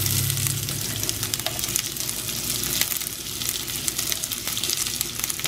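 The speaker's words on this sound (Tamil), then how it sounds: "இப்போ இதில் நான் வெங்காயம் போட" Chopped onion fries in hot sesame oil with cumin seeds, a steady close sizzle and crackle with a few stirring scrapes, fairly soft, and no voices heard.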